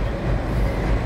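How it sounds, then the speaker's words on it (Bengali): A train passes near Malda Town on the Indian railway, a loud, continuous low rumble and roar of wagons close by, steady from start to finish with no talk. "এটা কোন ট্রেন যাচ্ছে"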